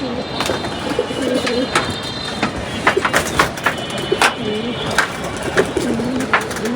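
Pigeons coo steadily and close by, overlapping low rounded calls in a dense flock, with a few sharper clicks and flutters scattered throughout.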